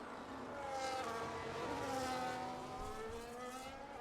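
Several F1 25 race cars on the last lap of a video game Grand Prix, engines whining steadily at high revs with shifting pitch throughout, continuous and fairly loud with no voices.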